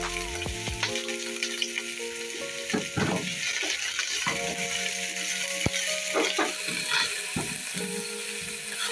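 Onions frying in a few spoonfuls of oil in a pot for chicken fricassee with mustard give a steady close sizzle, with occasional scraping and stirring clicks of a utensil over the continuous crackle.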